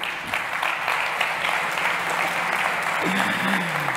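A crowd claps steadily in sustained applause, close and busy, with a voice briefly audible beneath the clapping.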